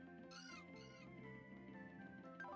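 A cat-like Pokémon cry from the Pokémon Diamond video game: two quiet, high meowing calls in quick succession over faint game background sound.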